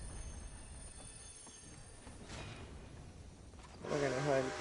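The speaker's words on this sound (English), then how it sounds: "usually get a train to spawn in here as you load in. So there it comes." In a video game, a train rumbles steadily as it draws near, and near the end a louder screech of squealing wheels rises. Low noise runs underneath the whole time.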